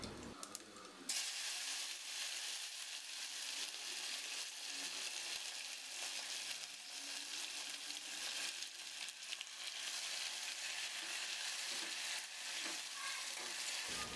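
Sliced tomatoes and whole garlic cloves fry in a pan as a loud, dense, even sizzle that starts abruptly after a brief quieter moment and holds steady, with faint stirring and no voices.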